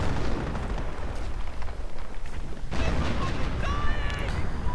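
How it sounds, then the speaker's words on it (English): Mortar shells exploding in a Company of Heroes mod battle, dense booming blasts and rumbling impacts with gunfire crackle layered over a low continuous roar, while a commentator talks over the action. "The mortar rounds, another gets suppressed, another killed, I think."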